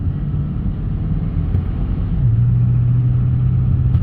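An automatic car shifts into second gear, its engine drone stepping to a new steady pitch midway while a low interior rumble continues throughout.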